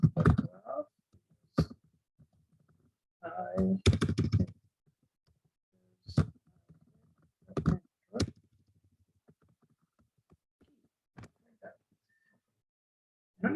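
Computer keyboard typing in bursts of sharp clicks separated by pauses, close and clear against a quiet background, with no talk over it.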